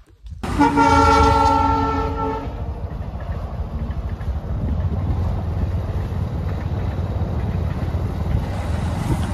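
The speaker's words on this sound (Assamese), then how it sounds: "এইফালে ট্ৰেইন আহিছে দেখাই আছোঁ" A loud train horn blasts for about two seconds, followed by the heavy, steady rumble of a train rolling past nearby, in Assam.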